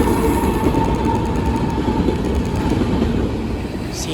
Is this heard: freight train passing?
yes